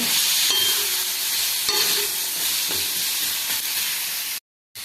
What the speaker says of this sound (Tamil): கால் ஸ்பூன் மஞ்சத்தூள், அரை ஸ்பூன் மிளகாத்தூள், ஒரு ஸ்பூன் மல்லித்தூள் போட்டு வதக்கிவிடுங்க.